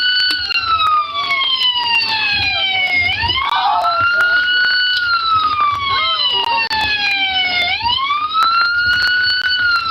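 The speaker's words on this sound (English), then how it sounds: "could you turn your siren off before you fucking exit the vehicle" Police car siren wailing loudly and close, rising and falling sweeps repeating continuously with a steady high-pitched tone throughout.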